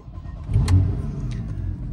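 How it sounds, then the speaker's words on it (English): A Porsche 911 Carrera 4S engine starting: a loud crank and catch that swells into a short rev, then settles into a steady idle rumble, with no talk. "So if we were to start the vehicle"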